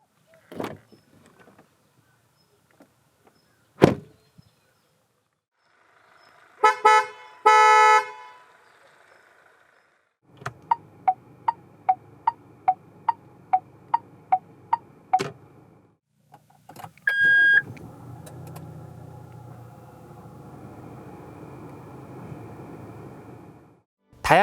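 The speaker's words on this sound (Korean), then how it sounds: "잠시 코란도가 들려주는 감성 측면의 소리들을 들어볼까요?" A 2019 SsangYong Korando gives a sequence of short sharp sounds: a couple of door thuds, a burst of horn honks, a long steady run of evenly spaced ticking indicator clicks, a brief chime, then a low engine-like hum, close and clear with no talk.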